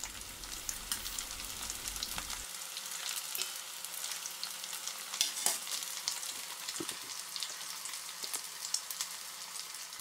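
Potato meatballs fry in a pan, a continuous crackling sizzle with scattered sharp pops, close and moderately quiet, with no speech.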